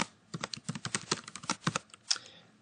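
Quick, light keystrokes on a computer keyboard while code is entered in MATLAB, an uneven run of close clicks with a brief pause before a final tap.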